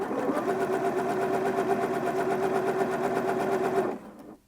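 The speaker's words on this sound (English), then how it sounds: "I'm just going to sew the first row of stitches now." Close and steady, a sewing machine whirs through the first row of buttonhole stitches, its needle chattering rapidly for about four seconds before the motor winds down and falls quiet.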